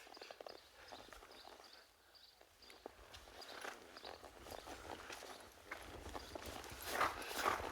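Horse hooves clip-clopping in a steady walking rhythm during reining and cow work training, moderately close, with occasional faint dog barks in the background.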